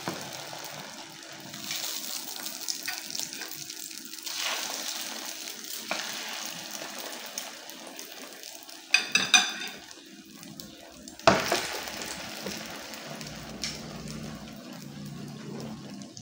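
Tortang talong, an eggplant omelette, sizzles in a hot pan as a steady soft frying hiss, broken by a few louder clinks and scrapes of utensils against the pan.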